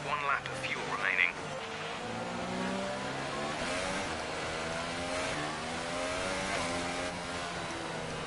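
An F1 2018 race car engine idling along at low, cautious speed back to the pits, a steady droning hum with shifting pitch that runs throughout beneath a person talking.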